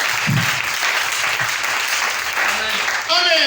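A church congregation at a tabernacle service breaks into loud, sustained applause and cheering, with a dense clapping wash filling the whole stretch and a few voices shouting over it.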